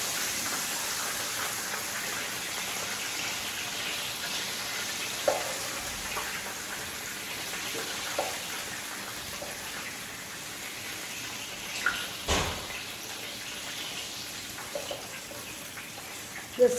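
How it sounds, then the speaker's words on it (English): Grease is scooped from a large skillet after frying pork chops: a soft continuous sizzle broken by a few scrapes and clicks of the utensil. "Just going to take some of this grease out."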